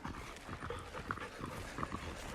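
A large, muscular nine-month-old dog moves about and sniffs closely, with soft quick snuffles, light footfalls and faint panting at low volume.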